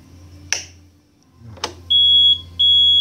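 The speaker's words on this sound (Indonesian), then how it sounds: "Knob keyless ini bunyi ya." Keyless knob alarm on a Yamaha Mio Fino scooter: two faint clicks, then two loud, sustained high-pitched electronic beeps close by, each lasting about half a second with a short gap between.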